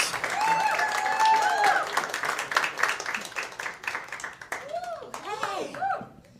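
An audience applauding for a performer, steady clapping close by that thins out toward the end while voices speak and call out over it.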